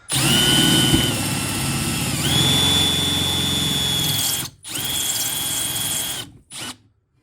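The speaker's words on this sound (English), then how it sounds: "All right, you can probably see that working its way, and it already did a nice chamfer on the next size." Handheld power drill boring through metal with a step bit, a loud close whine that shifts pitch as each step cuts, stopping briefly and restarting in short bursts.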